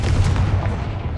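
A Confringo blasting spell in Hogwarts Legacy explodes as a single short, heavy boom with a deep rumbling low end, loud and close.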